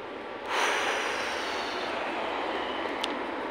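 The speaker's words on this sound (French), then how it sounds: "je vais me moucher le nez" A woman blows her nose in one long, loud, breathy gust that starts abruptly and holds steady for about three seconds, close to the microphone.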